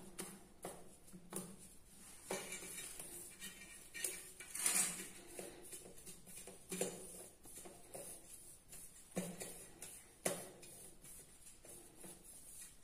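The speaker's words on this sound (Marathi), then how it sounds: "आणि हे मीठ टाकते. आणि सगळं मिक्स करून घ्यायचं." Ingredients and a pinch of salt get stirred together in a bowl, giving faint scattered scrapes and light clinks of utensil against the dish at an uneven pace, quiet and close with no speech.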